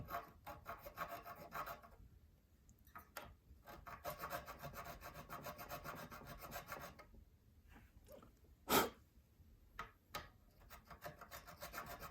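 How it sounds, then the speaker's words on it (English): A metal file rasping in a guitar nut slot on a kit guitar, short rhythmic strokes in bursts with brief pauses and a louder scrape near the end, heard close and quiet with no talking. "now if I take my file, in theory I can go down into that nut slot until I start hitting this groove bar"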